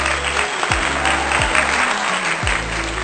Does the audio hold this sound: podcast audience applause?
yes